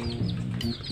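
A chicken clucking close by in a short burst of throaty calls, with no one speaking.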